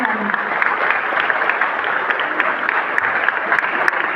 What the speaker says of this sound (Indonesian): Mari berikan aplaus untuk anak-anak kami.